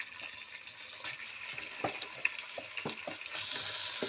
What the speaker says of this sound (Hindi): और इसको थोड़ा फ्राई करूंगी